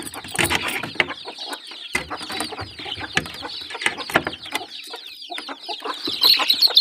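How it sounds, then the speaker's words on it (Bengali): Chickens being let out of their coop cluck and squawk in busy, irregular bursts close by, with scattered flapping and scuffling between the calls. "মুরগিগুলো ছেড়ে দিই।"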